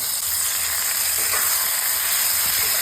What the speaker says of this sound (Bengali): এরপর এর মধ্যে দিয়ে দিচ্ছি ম্যারিনেট করা কিমাটা